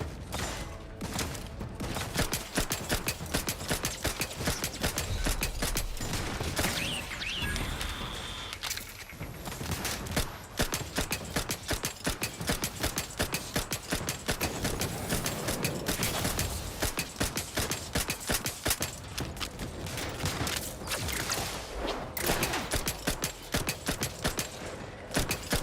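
Turrets fire in Outer Worlds 2 in dense, sustained volleys with mechanical clatter, a loud and continuous barrage across the whole stretch of gameplay.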